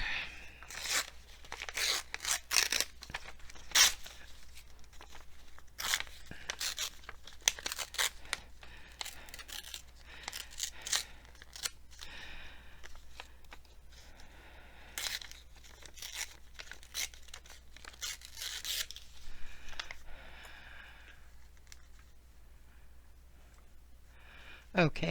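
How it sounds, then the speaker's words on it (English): Paper tearing and crinkling for a handmade collage, a run of short ripping and crumpling bursts up close, with a few sharper snips scattered throughout. "Maybe it should rip."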